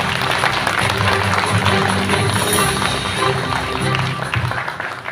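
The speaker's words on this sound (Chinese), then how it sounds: "掌声有请。" An audience at the opening ceremony of a river-culture exhibition in Tainan claps in a dense, sustained round of applause that holds steady for several seconds before easing slightly at the end.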